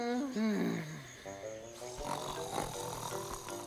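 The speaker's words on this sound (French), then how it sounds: "Ce sont les ronflements de Maurice." Loud, rumbling snores from a cartoon character with a comical voiced quality, repeating in rough bursts over a musical backdrop.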